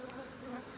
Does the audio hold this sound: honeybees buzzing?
yes